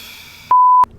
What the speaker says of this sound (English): I'm beeping that.